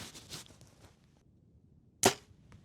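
A bow looses an arrow at a 35-yard target during outdoor practice for elk season: one sharp, loud snap of the release about two seconds in, after faint rustling and handling noise.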